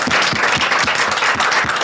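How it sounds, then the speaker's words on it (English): Steady audience applause for speakers at a conference plenary fills the whole stretch, dense overlapping claps at a loud, even level with no talking over it. "A round of applause for the speakers again."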